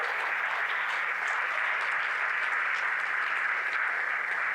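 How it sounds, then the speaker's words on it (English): An audience at a chiropractic success training event applauds with a steady, even wash of clapping held at a moderate, slightly distant level for the whole stretch. "If anyone deserves a round of applause, let me tell you something."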